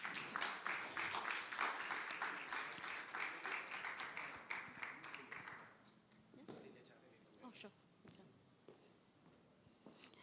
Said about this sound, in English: I want us to stand up and clap for him